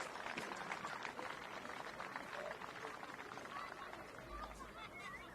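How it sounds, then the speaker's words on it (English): Applause from a crowd honouring under-14s players at a football club event, a steady wash of clapping mixed with crowd chatter and murmuring voices throughout. "Big round of applause, ladies and gentlemen"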